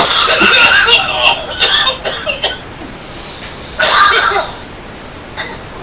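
Several raspy coughs from a man with a sinus infection come in a short burst, then a pause and another harsh cough, close and fairly loud.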